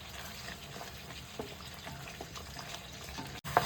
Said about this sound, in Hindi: इसे हम थोड़ा सा लो फ्लेम करके हम इसे भूनेंगे।